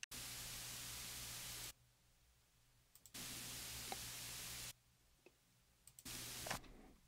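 Steady broadband hiss of recorded white noise in Logic Pro X that switches abruptly on and off in long blocks as a noise gate acts, separated by near-silent gaps with a few faint clicks.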